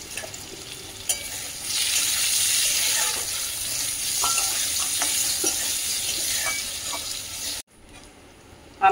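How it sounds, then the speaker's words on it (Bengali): Mango pieces frying in a pan with a little turmeric and salt, a steady loud sizzle with occasional stirring scrapes, cutting out abruptly near the end. "আমটা এসে ভেজে নিচ্ছি,"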